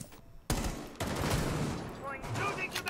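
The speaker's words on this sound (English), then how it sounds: "NC is shooting at his teammate in Lodgy right now" Gunfire in Rainbow Six Siege, a few sharp bursts of shots with a short burst near the start and denser firing through the middle, game ambience and faint background sounds around them.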